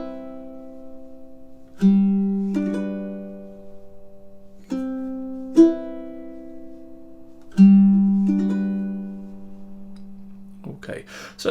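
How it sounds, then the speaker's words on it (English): Ukulele playing the first four measures of Satie's Gymnopédie No. 1, slow plucked chords spaced every few seconds, each ringing and decaying alone, ending with a brief scuffle of handling noise. "So those 4 measures together would sound like this."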